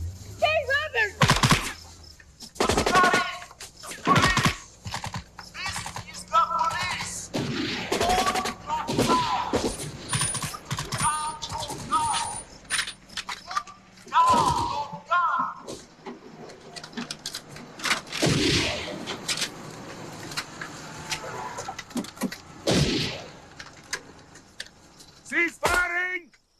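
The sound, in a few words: gunfire in a movie battle scene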